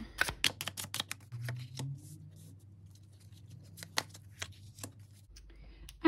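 Large tarot cards being shuffled by hand for a reading: crisp riffles and flicking card slaps in quick close bursts, with sparser taps later, under a low steady hum.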